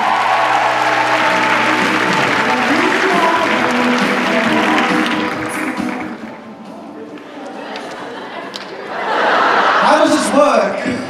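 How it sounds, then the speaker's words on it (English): Audience applause for a contestant at a cosplay contest at Supanova Perth, loud dense clapping mixed with chuckles and crowd chatter, thinning in the middle before swelling again near the end. "Give her a round of applause, ladies and gentlemen"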